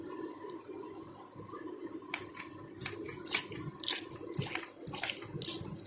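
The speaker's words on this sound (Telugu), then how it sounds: "ఇక్కడ ఒక నాప్ ఇచ్చారండి, దాన్ని ప్రెస్ చేస్తే వాటర్ వస్తాయి." A toy kitchen tap, switched on with a press of its knob, runs real water in splashy, irregular spurts and trickles starting a couple of seconds in. The spurts grow louder and more frequent against a quiet room.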